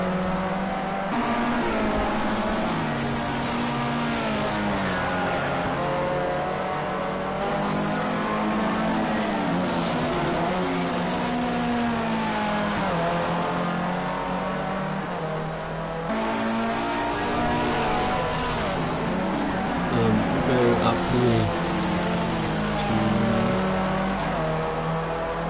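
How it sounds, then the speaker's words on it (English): Race cars in a PS4 racing video game drive in a pack on tarmac, a continuous loud engine whine with revving that rises and falls as cars accelerate and shift, no voices. "NL Tenovic, Galactic Skull and JFD, all in a similar area of tarmac, just behind the main group."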